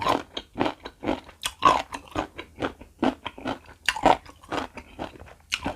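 Crunchy salt-pickled mango bitten and chewed close to the mic, a rapid series of crisp crunches in a steady rhythm, with no talking.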